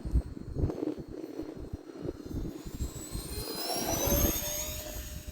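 E-flite A-10 Thunderbolt II model jet with twin 64mm electric ducted fans flying on its maiden flight, a high whine rising and sweeping in pitch as it passes, over gusty outdoor wind noise.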